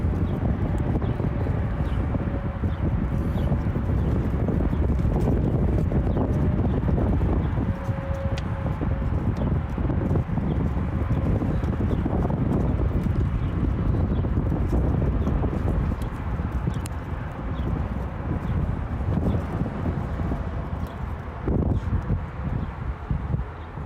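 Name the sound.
wind blowing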